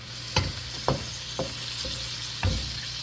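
Beef, pea pods and carrots stir-fry in a hot pan under a constant sizzle, with four or five distinct scraping strokes of a utensil at uneven intervals, close and clear.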